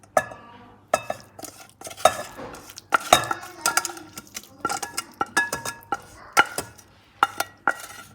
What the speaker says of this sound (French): Je vais mélanger mon légume